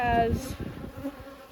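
Honey bees working a hive frame during an inspection make a steady low buzzing drone, close and continuous, with a brief spoken word near the start.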